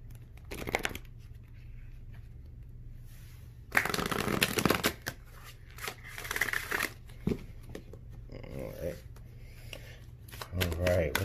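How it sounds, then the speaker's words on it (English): Tarot cards shuffled several times in quick riffling bursts, close by, with quiet pauses between and a brief voice near the end. "All right, let's get one more shuffle."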